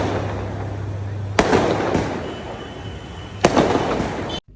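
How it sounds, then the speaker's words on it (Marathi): Firecrackers go off outside during street celebrations after an India cricket win, with two sharp loud bangs over a continuous crackling, popping background of distant bursts. "बाहेर तर इतके फटाके वाजत होते ना"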